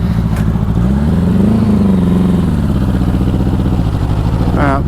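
A 1984 Honda Goldwing motorcycle engine runs steadily up close after warming up, a continuous loud throb with a short rev rising near the end.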